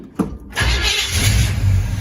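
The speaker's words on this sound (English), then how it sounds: "So this is the first successful drive of this car." A 1967 Pontiac Firebird, revived after 25 years, starts for its first drive: a brief starter click, a short pause, then the engine catches and settles into a loud, rumbling idle close by.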